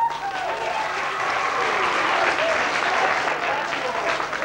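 Dense, loud applause fills a school hall for a newly chosen student king, steady and sustained, with a voice faintly heard beneath it.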